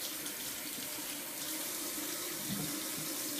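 Hands are washed under a running tap into a sink, a steady close hiss of flowing water with brief splashing shifts as the hands move through the stream.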